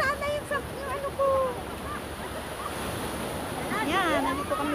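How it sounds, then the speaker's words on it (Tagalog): Surf washes on the shore at Cheung Sha beach on Lantau Island at low tide as a soft continuous hiss, with people talking over it and some wind buffeting. "nandito kami sa may tabing dagat."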